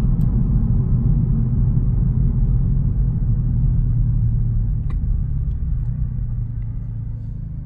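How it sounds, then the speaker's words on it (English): Heavy low engine rumble of a Chevrolet Camaro driving on the road, loud and steady throughout, easing slightly toward the end, with no talking. "Look at this Camaro coming."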